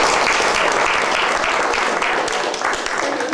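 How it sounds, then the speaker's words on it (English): Audience applause fills the hall after a folk musician introduces his two accompanying players, a steady, loud wash of clapping throughout with no talk over it. "Give them a big round of applause."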